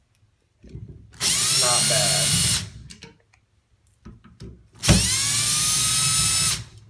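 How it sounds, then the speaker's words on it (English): A power driver backs out Phillips head screws from a Pfister shower valve cartridge in two loud, close whirring bursts of a couple of seconds each, separated by clicks, handling noise and a brief spoken word. "Then you can remove these 4 Phillips head screws."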